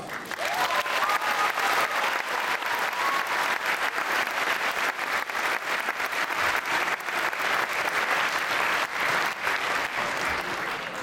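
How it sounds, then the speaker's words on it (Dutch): Sustained audience applause from a large crowd at a school propaganda evening theatre show, dense steady clapping at constant loudness for about eleven seconds, with faint voices briefly audible early on. "Nou, geef ze nog een hartelijk applaus."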